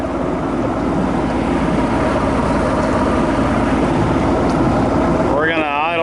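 A fishing boat motor idles steadily on a crappie lake with submerged timber, a loud continuous low rumble throughout with a voice starting to speak near the end.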